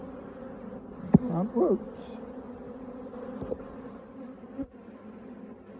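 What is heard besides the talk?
disturbed honey bees buzzing at an open hive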